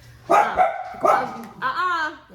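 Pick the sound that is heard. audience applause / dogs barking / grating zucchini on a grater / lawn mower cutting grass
dogs barking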